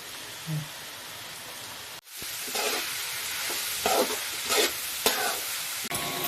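Vegetables and onion sautéing in a pan for mutton fried rice, a close sizzle that stops briefly, then returns with several bursts of scraping and stirring.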